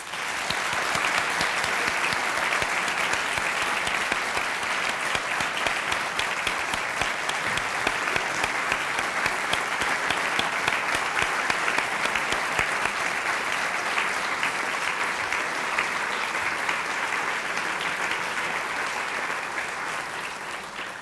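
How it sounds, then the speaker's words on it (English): Audience at a rural Illinois physicians' awards ceremony gives a long round of applause, steady, dense clapping from a sizeable crowd that holds for about twenty seconds and tapers slightly at the end. "let's give all of them a round of applause"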